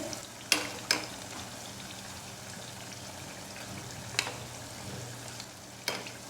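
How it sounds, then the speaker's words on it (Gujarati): Mathri deep-fries in oil over a low flame, with steady, soft bubbling throughout and a few sharp clinks of a utensil against the pan. "મઠરીને આપણે સ્લો ફ્લેમ પર તળાવા દેવાની છે"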